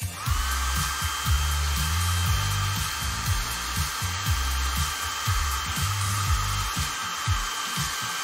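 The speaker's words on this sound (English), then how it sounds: "We'll use a blow dryer to do that." A blow dryer runs steadily over fresh epoxy resin in a megalodon shark diorama, chasing out tiny air bubbles. Its even, continuous whoosh carries a thin whine and lasts throughout, with muffled low thumps beneath.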